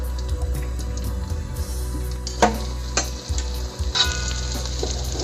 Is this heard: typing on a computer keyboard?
no